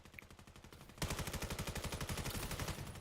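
Rapid automatic gunfire in the VR shooter VAIL during a championship finals match, a quieter patch of shots giving way after a second to loud, sustained, evenly spaced bursts.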